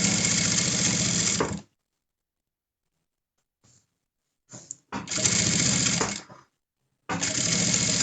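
Sewing machine topstitching a seam on a fabric face mask, running in three steady, close bursts of needle stitching separated by quiet pauses and a few faint handling clicks.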